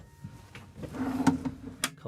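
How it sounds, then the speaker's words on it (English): A pull-out kitchen drawer in a 2025 Winnebago EKKO 22A camper van slides open with a short rolling rumble and a soft knock at the end, heard close and fairly quiet. "A couple of pull-out drawers there."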